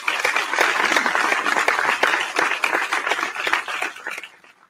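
Dense audience applause fills a school athletic awards ceremony honoring the senior boys of the class of 2020, steady and close for several seconds before thinning out and fading at the end.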